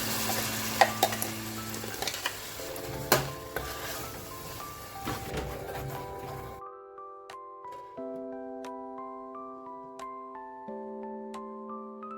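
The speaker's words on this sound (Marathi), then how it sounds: "आता हे वाटण ऍड करते" Ground masala paste sizzles and is stirred with scraping in a pan while making a prawn curry with drumsticks and potatoes, clattering sizzle for about six seconds before gentle background music takes over.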